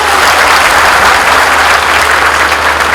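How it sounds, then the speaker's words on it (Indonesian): A large audience applauds President Jokowi at a political gathering in Aceh. The clapping is loud and dense, a continuous wash that holds steady without a break. "berikan aplaus kepada Bapak Jokowi"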